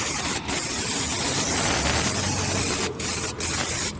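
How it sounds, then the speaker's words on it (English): Tire shine sprayed from an aerosol can onto a car tire: a long continuous hiss up close, broken by short pauses between bursts, with no talking. "let me spray it on there"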